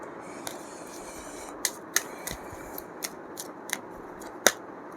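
Tarot cards are shuffled and dropped, making a string of light, sharp card snaps and flicks over a quiet room background, irregular and close.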